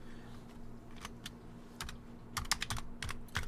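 Keys on a small computer keyboard are tapped in short irregular bursts, close and fairly quiet, with a faint steady hum underneath and no talking.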